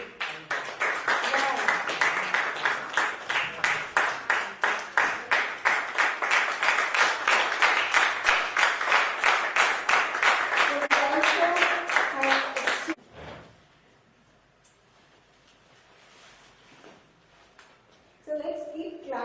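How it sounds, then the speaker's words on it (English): Audience members at a Rotary Club of Chandigarh Midtown installation ceremony clap together in a fast, regular rhythm for about thirteen seconds, then stop abruptly, leaving near quiet before voices resume. "Please keep clapping."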